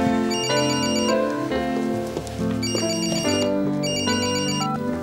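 A telephone ringtone plays as a loud repeating electronic melody with bright bell-like notes, continuous and up close for the whole stretch.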